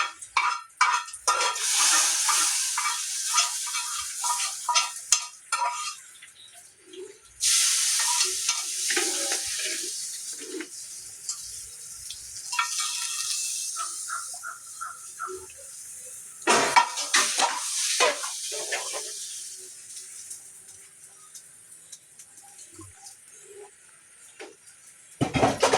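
Hot fried mustard seed tempering hits a dried prawn curry (theeyal) with sharp, loud bursts of sizzling and crackling that flare up three times, then settle into a softer hiss between pours.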